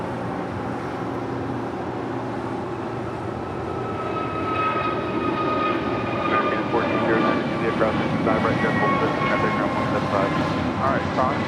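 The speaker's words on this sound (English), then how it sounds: "Next departure here on the south side, Alaska Airlines Flight 286 heading to Newark in an A321neo." An Alaska Airlines Airbus A321neo departing from the south side of Los Angeles International Airport, its jet engines building from a low rumble to a louder, rising roar with whining tones in the second half.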